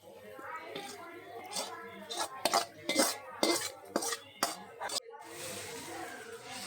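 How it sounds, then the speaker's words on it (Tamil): Repeated metallic scraping and clinks of a utensil stirring fish in a pan, in short irregular strokes, close and fairly quiet. "அடி பிடிக்காத அளவுக்கு நம்ம நல்லா கிளறி விடணும்"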